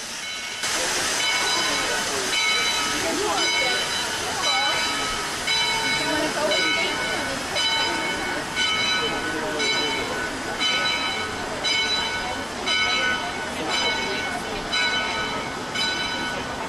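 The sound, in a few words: Shay steam locomotive no. 10 from 1928 running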